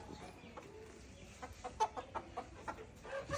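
Soft, intermittent native hen clucks in a quiet yard, a few short calls spaced irregularly with faint background noise.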